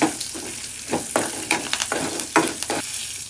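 Green chillies fry in a tempering of oil and spices for mango pulihora, crackling in loud, close bursts of sizzle with intermittent stirring scrapes.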